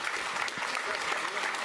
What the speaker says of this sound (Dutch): Geef me een warm applaus